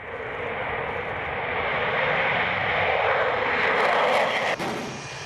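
Military aircraft engines roar steadily at an airfield, a loud, broad, sustained rumble and whine that swells slightly over several seconds with no talk over it.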